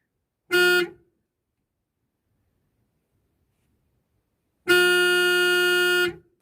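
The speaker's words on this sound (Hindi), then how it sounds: "कुछ इस तरह आवाज़ें आती है हॉर्न की" A 2001 Maruti 800 car horn, heard from inside the car, honks twice, a short blast then a longer one lasting over a second, loud and close, with silence in between.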